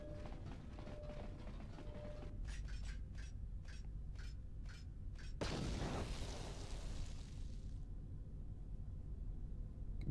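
A droid blows up in KOTOR 2: a series of rhythmic mechanical clinks leads into a single sudden, loud boom with a long crackling, hissing decay, with no talk over it.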